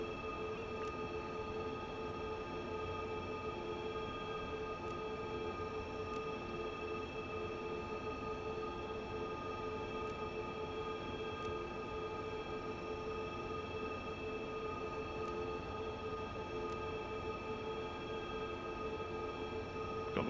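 Class 187 locomotive at full throttle in Train Sim World 3, a steady droning engine with sustained tonal hum and rolling rail noise, faint and unchanging, with occasional soft clicks from the track.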